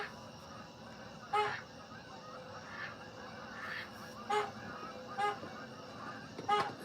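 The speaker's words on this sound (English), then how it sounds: "It was a whole flock of geese." Flock of geese flying toward a neighbor's pond, several distant honks calling out at irregular intervals over quiet outdoor background hiss, faint and far off.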